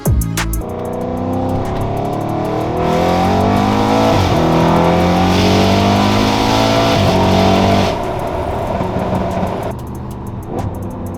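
An Audi RS6 with a new aftermarket exhaust revs loudly and rises through the gears with a rasping, droning roar, then eases off and settles into a lower rumble.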